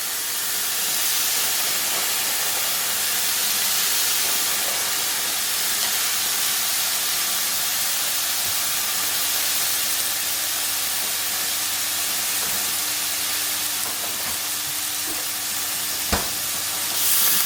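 Frozen onion fries with bacon in a pan, giving a steady, loud, dense sizzle and hiss that holds unbroken from start to finish, close up, with no voices.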